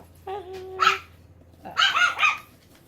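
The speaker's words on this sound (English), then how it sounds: "Sorry, my dogs are barking at each other." Pet dogs bark at each other indoors in two bursts: a sharp yip with a whining tone, then a pause, then a cluster of loud, close barks, with no talking.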